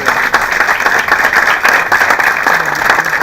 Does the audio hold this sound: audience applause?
yes